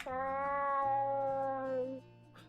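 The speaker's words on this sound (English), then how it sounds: "I love the cat meow." A cat meows in the video game Sorbetta, one long, drawn-out and clear meow heard close and alone, then a softer trailing sound.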